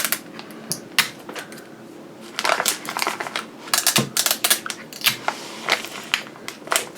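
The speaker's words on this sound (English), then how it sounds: "And then fold it over. And then I tape it." Paper is folded and then taped by hand, a run of crisp crinkles, sharp snaps and scratchy bursts coming in irregular clusters, close to the microphone and with no talking.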